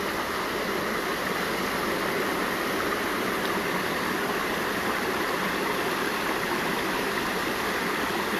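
Continuous flowing stream water, an unbroken broadband rush at a steady level with no voices or other sounds.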